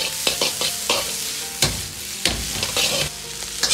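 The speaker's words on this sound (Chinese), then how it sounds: "炒至配菜稍微发软，放入适量的香辣酱，炒出颜色，炒出香味" Vegetables stir-fry in a wok with spicy sauce for a Sichuan dry-fried squid dish, a continuous close sizzle broken by repeated scraping and clanking strokes of the spatula.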